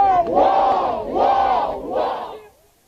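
Large agitated crowd in a township shouting in three rising, surging waves of massed voices, loud and close, fading out at the end.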